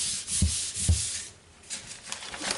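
Paper being rubbed and pressed flat onto a file folder with the hands: close, dry swishing strokes with two soft thumps early on, then a pause and more rubbing.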